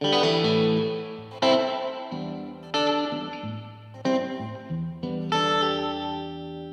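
Electric guitar chords played through a distorted Bad Cat boutique amplifier with its reverb turned all the way up, each strum ringing out with a long, washy reverb tail before the next.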